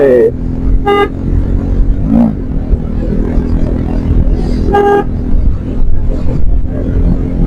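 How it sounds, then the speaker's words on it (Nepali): A vehicle horn honks in two short bursts along a narrow road, loud and close, under an ongoing motor rumble with talk heard alongside. "यतिको हरन चाहिँ हालेर हिँड्नुपर्छ अनि मजा आउँछ के"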